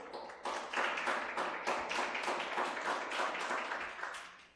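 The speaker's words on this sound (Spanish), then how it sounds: "Den un aplauso al Señor." A church congregation claps, first in scattered separate hits and then in a loose rhythmic beat that swells and stays fairly strong before trailing off at the end.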